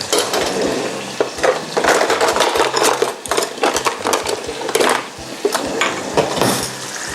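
Shrimp frying in hot oil, a busy crackling sizzle with occasional sharp pops and the clack of chopsticks or utensils shifting the pieces in the pan.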